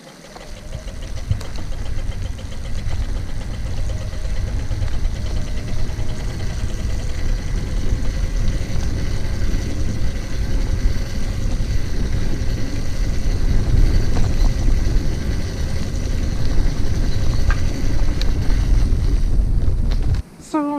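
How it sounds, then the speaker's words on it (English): A home-made e-bike motor pulls the bike uphill on a half-drained battery with a steady, loud drone, heavily buffeted by wind noise across the microphone throughout and ending abruptly. "It's all the motor is doing that's gonna be happening here, and this is uphill"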